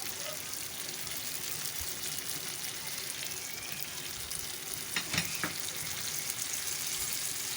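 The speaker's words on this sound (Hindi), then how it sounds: "जितना हमें सरसरा रखना है उसके हिसाब से हम थोड़ा पानी डालेंगे।" Water goes into a pan of Hyderabadi green chilli curry with tamarind pulp, setting off a soft, steady sizzle and bubbling with a couple of brief splashy pours partway through.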